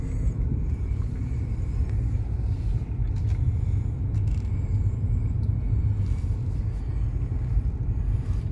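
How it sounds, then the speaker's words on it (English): Inside a car driving through a residential community in North Fort Myers, a steady low rumble of engine and road noise continues evenly throughout with no talk. "And I'll drive over there so you can see that."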